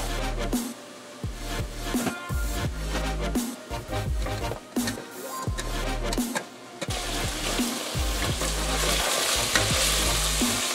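Onions for baked ziti sautéing in a pan, with a continuous sizzle and repeated close scraping and clattering as a utensil stirs them, no talk.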